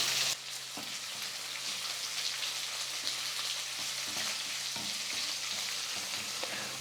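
Onion and green chillies frying in a pan with curry leaves, giving a steady, even sizzle with a few faint stirring knocks, close by and fairly quiet.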